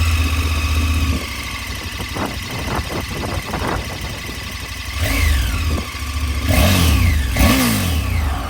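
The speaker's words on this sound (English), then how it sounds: "That's the stock exhaust with both baffles in, top and bottom." A KTM 1290 Super Adventure motorcycle with its stock exhaust, both baffles fitted, runs loud and close, idling with a deep rumble and then revving in several rising throttle blips.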